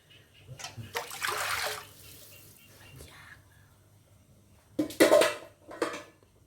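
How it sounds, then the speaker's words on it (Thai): Water splashes and pours into a wok in two bursts, filling it to blanch noodles, with quieter clatter between them and no talking. "จากนั้นกระทะใบเดิมนะคะ เอาน้ำใส่เลยเพื่อลวกเส้นนะคะ"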